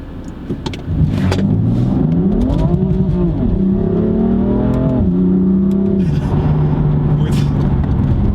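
A manual 2018 BMW M4 Competition (F82) launches hard in first gear with traction control partly off. The engine is loud and close, rising and dipping in pitch as the tires search for grip, then holding a steady drone.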